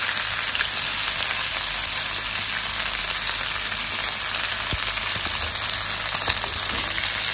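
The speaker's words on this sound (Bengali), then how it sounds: "একটু ভাজা ভাজা করে নেব পেঁয়াজটা।" Onions frying in hot oil with whole-spice tempering, a steady close hiss and crackle running unbroken throughout, with a couple of sharper pops near the end.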